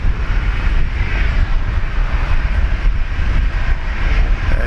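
Air Canada airliner at Brisbane Airport, a loud broadband jet roar rumbling steadily and close for the whole span.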